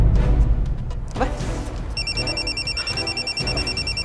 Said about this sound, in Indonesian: Saya tinggal angkat telepon dulu ya.